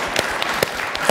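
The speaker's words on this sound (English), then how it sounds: "Big round of applause for that question there" An audience applauds a question at an auction-house talk about Queen Elizabeth I and Queen Victoria, a short steady patter of many hands in a room, fairly loud, with a few sharper claps standing out.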